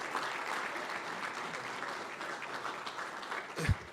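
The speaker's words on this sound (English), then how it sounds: "if you don't mind giving them a big round of applause" An audience claps in a sustained burst of applause that stays even and fairly close, ending with a sharp low thump near the end.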